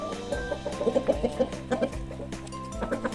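A hen clucks in a quick series of short, choppy calls over a steady musical backing, the clucks bunching in the middle.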